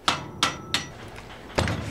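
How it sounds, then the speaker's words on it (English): Hammer driving a punch against a shovel handle pin: three sharp metallic strikes in quick succession, a pause, then a fourth heavier blow, close and alone. "Now we'll knock it out with a hammer and a punch."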